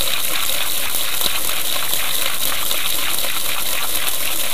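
Water gushes forcefully from a hose in a continuous, loud, close splashing rush that holds steady throughout.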